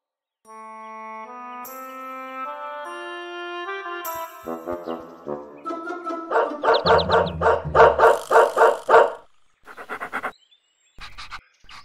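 Cartoon dog barking in a children's animated show, a run of loud rhythmic yaps and woofs following melodic chime tones, then a few scattered barks after a short pause.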